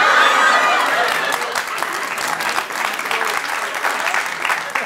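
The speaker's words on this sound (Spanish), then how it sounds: "¡Fuerte el aplauso, Ariel Sánchez, huevón!" Live comedy talk show audience applauding a guest, a loud dense burst of clapping and crowd noise that eases slightly, with voices mingled in.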